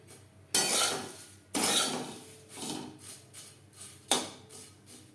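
Thin flattened rice (chire) is stirred in a pan with a little oil over a low gas flame. Sharp scraping sweeps come in separate bursts, loud at the start of each stroke and then fading, with no talking.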